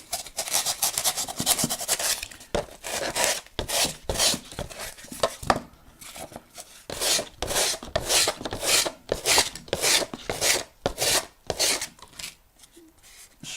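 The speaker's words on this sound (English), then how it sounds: "You need some fairly rough sandpaper" Coarse sandpaper rubbing a rock spire terrain model in quick, rasping back-and-forth strokes, close and fairly loud, with brief pauses between bursts and no voices.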